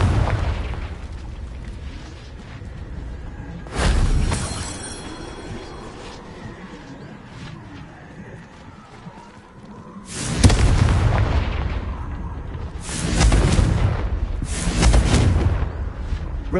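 Confringo blasting curse in the Hogwarts Legacy game going off as heavy booming explosions, one around four seconds in and a cluster of three loud blasts near the end, over a low rumbling background.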